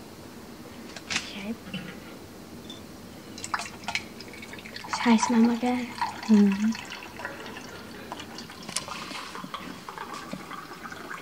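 Water pours into a glass at a table in a Vienna hotel, a short trickling fill in the middle, heard among a child's and a mother's chatter and light clinks.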